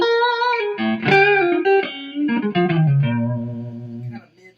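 Electric guitar played through a Laney Linebacker amp with reverb, a clean melodic phrase of single notes and chords ringing out loud and close, with a short reverb tail at the end.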